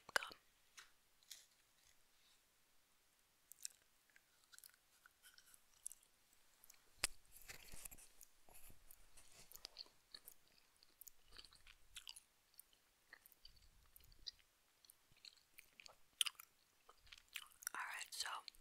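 Quiet, close-up gum chewing of Extra mint chocolate chip gum, soft wet smacks and squishes scattered irregularly through a whispery ASMR setting, with faint breathy sounds between bites.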